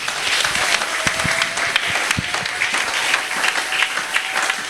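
A church congregation applauds as a dense, continuous wash of clapping, steady and fairly loud throughout, with scattered voices mixed into the crowd.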